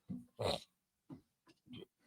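A dog close by making short bursts of grumbling, huffing vocal sounds separated by brief pauses.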